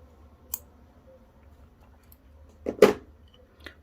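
Scissors snip crochet yarn from a table runner, a few isolated close clicks with one louder double snip near the end, over quiet room background.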